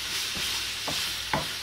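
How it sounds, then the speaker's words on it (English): Wooden spoon stirring shepherd's pie filling in a hot pan over high heat, with a steady sizzle and a few soft scraping strokes close by. "So use a wooden spoon to just stir it around, stir it about."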